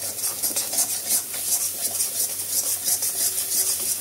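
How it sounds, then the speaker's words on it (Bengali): Pointed gourd peels being stirred as they fry dry in a pan, a steady scraping and rubbing with a faint sizzle, even and continuous with no talk. "এটাকে নেড়ে নেড়ে একদম শুকনো করতে হবে, নেড়ে যেতে হবে।"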